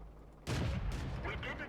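A tank cannon fires in World of Tanks, a single loud, near blast that hits at once and rolls into a sustained, rumbling decay, followed by fainter game noise.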